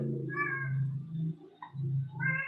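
A cat meows in two drawn-out, rising and falling calls with a short pause between them, close and fairly clear over a low steady background hum.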